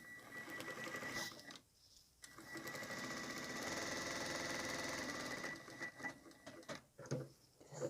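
A sewing machine stitches cotton fabric panels for a square tissue box cover, running in bursts with short pauses and a long steady run, close and loud with no talking.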